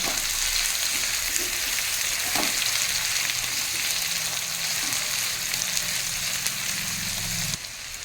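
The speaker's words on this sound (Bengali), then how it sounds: "আলু পেঁয়াজের সঙ্গে হালকা একটু ভেজে নেবো" Sliced potatoes fry with onions in a pan of hot oil, giving a loud, steady sizzle that runs unbroken throughout, with a faint stir now and then.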